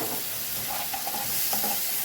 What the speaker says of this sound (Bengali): এটা লাল লাল করে কষবো